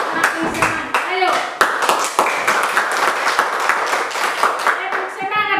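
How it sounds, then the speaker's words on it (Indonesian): Schoolchildren in a classroom do a rhythmic encouragement clap, sharp claps in patterned bursts mixed with chanted children's voices and a teacher's voice leading the cheer. "kita tepuk tangan semangat dulu biar semakin semangat"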